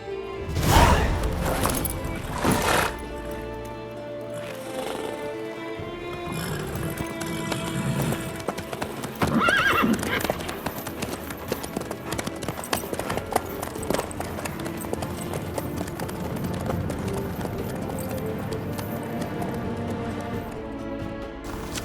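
Galloping horse hooves from the game Witcher 3, a steady clip-clop running under busy in-game music and effects, loud and close, with no neigh clearly standing out.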